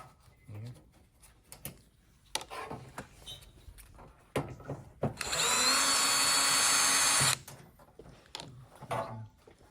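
Power screwdriver backing out screws from the top panel of a Zoom Digital HH-Series display, a steady two-second whir standing out close and loud amid faint handling clicks and knocks.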